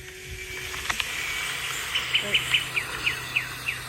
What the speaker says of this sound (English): Look, that's a bird.